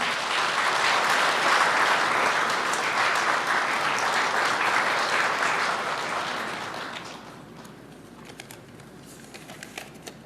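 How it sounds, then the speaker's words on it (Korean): An audience at a Korean Labor Day commemoration ceremony claps loudly and steadily for several seconds, and the applause then tapers off into scattered claps. "박수 부탁드립니다."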